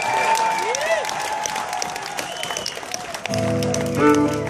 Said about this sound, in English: Gaz and Ben, big round of applause again